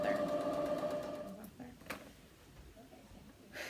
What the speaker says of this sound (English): we're just going to sew around this top edge here, sewing them together